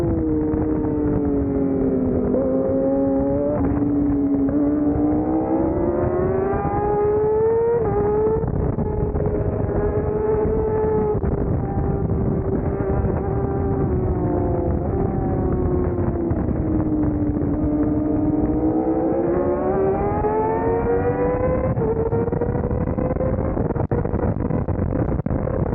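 A racing car's engine in a video game race, a continuous droning whine that rises and falls in pitch as the car speeds up and slows, steady and loud throughout with no talking.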